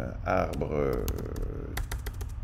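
Quick clicks of typing on a computer keyboard while someone talks, a few soft taps spread across the clip and clustering near the end.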